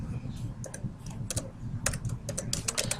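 Quick, steady tapping on a computer keyboard as a math function is typed in, close clicks in irregular clusters with a faint low background hum.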